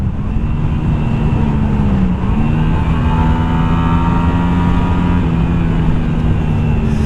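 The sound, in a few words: Shadow 125 bobber motorcycle riding engine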